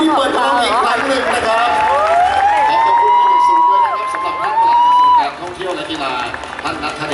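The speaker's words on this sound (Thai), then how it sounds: "และขอเสียงปรบมือดังๆ" A crowd at a festival opening ceremony in Nonthaburi cheers and shouts with rising, drawn-out voices, loud and close, with general hubbub and talk mixed in and little distinct clapping.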